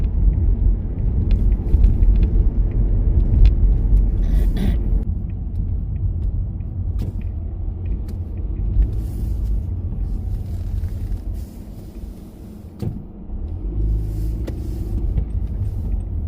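A car driving on a road in Canada, heard from inside as a steady low engine and road rumble for the whole stretch, with occasional faint clicks and a few brief bumps.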